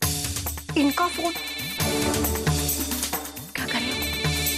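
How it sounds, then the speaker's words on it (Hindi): A mobile phone ringtone plays loudly in a room as a repeating electronic melody, with brief bursts of speech cutting in between the tones. "इनका फोन अचानक से कैसे आ गया?"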